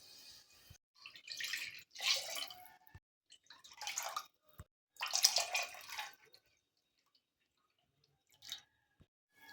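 Coconut milk and plain water are poured into a cooking pot for ghee rice, giving several short, close splashing pours separated by pauses, with no talking.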